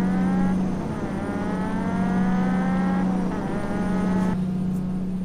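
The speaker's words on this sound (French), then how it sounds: "C'est un char de course. Les sons sont un petit peu buggés des fois, là." A video game race car engine holds a steady, loud drone at constant speed, its pitch glitching and stepping as if shifting gears, with a brief break near the end.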